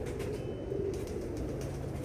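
Pigeons coo softly and continuously in a low, murmuring tone against faint background noise, with no voices.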